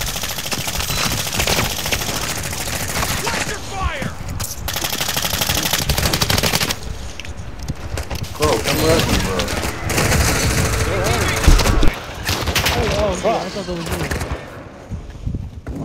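Sustained machine gun fire in the shooter DMZ, long rattling automatic bursts close and loud with brief pauses, continuing for most of the stretch while players talk over it.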